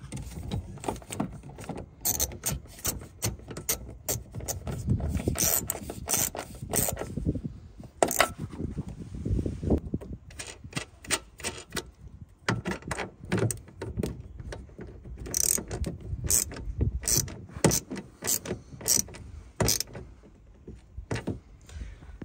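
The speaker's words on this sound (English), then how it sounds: "So let's go ahead and install the nuts." Nuts being fitted and tightened onto a Nissan Sentra taillight: a close run of irregular small metallic clicks, taps and jingles, with brief rattles and scrapes spread throughout and no talking.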